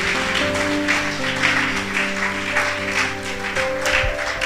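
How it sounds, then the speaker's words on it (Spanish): A church congregation claps steadily for several seconds over sustained organ or keyboard chords during a Sunday service, the applause broad and even. "dale un aplauso al Señor por su palabra"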